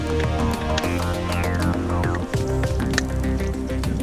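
Durum wheat grain pours steadily into a measuring container, a continuous close rustling, hissing stream of kernels filling it to the brim, with no talking.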